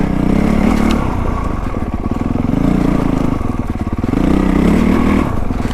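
A 2025 Honda CRF450R Works Edition dirt bike engine on a tight, slick snowy trail, loud and close, its pitch rising and falling in repeated revs over a rattling idle.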